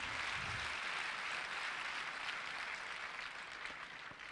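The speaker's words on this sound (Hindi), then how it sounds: "ताली बजा रहा था, जोर से बजाइए थोड़ा" Audience applause at a Forever Living success day event in Delhi, a steady dense wash of clapping from a crowd, sustained and even throughout.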